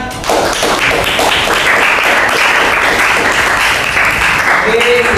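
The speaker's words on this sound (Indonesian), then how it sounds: "tepuk tangan." A school class audience claps together after a ninth-grade project presentation, steady dense applause lasting the whole stretch, close and loud, with no voices breaking through.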